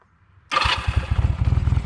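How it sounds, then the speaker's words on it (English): A motorcycle engine is started with the electric start button: after a faint low hum, it cranks and catches abruptly into a loud, close, rapidly pulsing idle with a steady chugging rhythm. "Go over to the other side on this bike, hit the start button."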